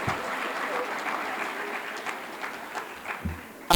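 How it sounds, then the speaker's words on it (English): A conference audience at a family-focused panel gives a round of applause, a moderate, slightly distant spread of clapping that gradually thins out, ending with a sharp close bump. "So let's give me a round of applause."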